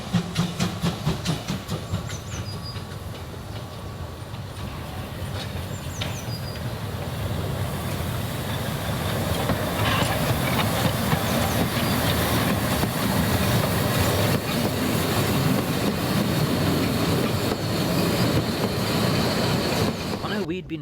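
A narrow gauge steam train runs steadily nearby, a continuous rumbling chug with hissing and rail clatter that swells slightly and holds for about twenty seconds.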